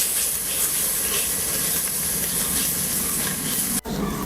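Ginger garlic paste sizzles with onion in a pan for a jackfruit biryani, a loud steady hiss that runs unbroken apart from a brief dropout near the end.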